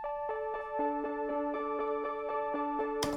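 Synth line with its filter cutoff nearly closed, giving a muted, dull tone: a repeating arpeggiated pattern of short notes over a steady pad, played alone and fairly quiet, ending with a brief bright noise burst.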